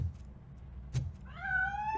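A cat meows inside a piano in the game Robocop Rogue City, one clear drawn-out meow rising near the end after a short thump, with low background hum and no talk.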